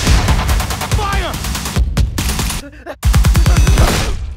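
Rapid bursts of automatic gunfire crackle loudly and close, with sharp shots and brief gaps between volleys, in a chaotic action scene from The Boys with shouting voices mixed in.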